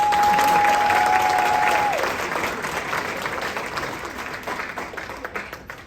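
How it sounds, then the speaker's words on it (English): An audience at a comedy festival bursts into loud sustained applause that gradually fades over several seconds, with a faint tone briefly audible at the start. "How about a round of applause"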